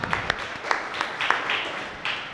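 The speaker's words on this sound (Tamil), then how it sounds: "அவங்களுக்கு ஒரு பெரிய கைத்தட்டு கொடுத்துடலாம்." Sparse, quiet applause from an audience at a CSI church Christmas children's program, a handful of scattered claps spread unevenly over a couple of seconds in a fairly hushed room.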